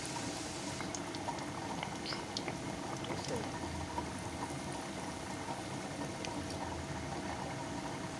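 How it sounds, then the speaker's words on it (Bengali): Jaggery pitha sizzling and bubbling in oil in an iron wok on a stove, a soft, steady frying hiss with faint crackles throughout. "প্রথমে ভেজে নিচ্ছে মা গুড় পিঠেগুলো"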